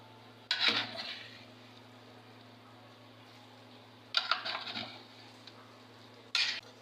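Meat khichuri stirred in a pot, three separate bursts of scraping and clattering of a spoon against the pot over a steady fan-like hum, close with no talking.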